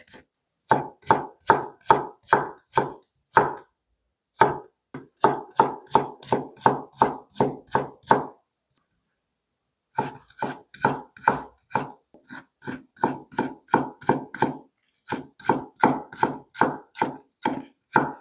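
A knife julienning ginger on a cutting board for radish water kimchi makes quick, even chopping taps in rhythmic bursts, close and crisp, separated by short pauses, with no talking.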